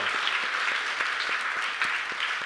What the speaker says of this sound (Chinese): 我们再一次拍手来谢谢我们的以赛亚牧区